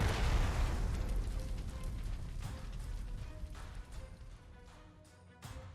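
A World War II artillery round fires at enemy artillery in the strategy game Panzer Corps 2, a heavy boom at the start that rolls into a long rumbling decay with faint mechanical clatter.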